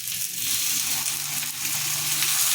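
Fish paturi, parcels of katla fish, sizzling in hot mustard oil in a pan, a steady close crackling fry with dense bubbling that holds evenly throughout.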